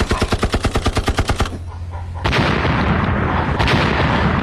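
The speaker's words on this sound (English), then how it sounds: "Now bring out the heavy artillery." Heavy artillery fire as a sound effect: a rapid, regular volley of loud shots, a brief lull, then a sustained thundering roar of booms and blasts.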